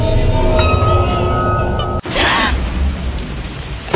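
Steady rain hisses loudly nearby, a continuous wash of noise with a brief dropout partway through.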